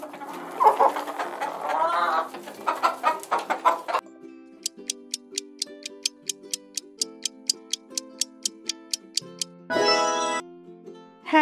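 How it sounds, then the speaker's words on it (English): A hen clucks in short bursts, followed by a steady run of evenly spaced ticking notes and a brief loud squawk near the end. "Hens. It's correct answer."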